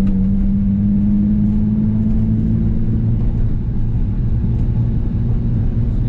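Nissan 350Z engine held under light throttle, a steady close low drone with a faint rise as the gas pedal is prodded during drifting, continuous and loud with no talk.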